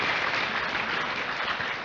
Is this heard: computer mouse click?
no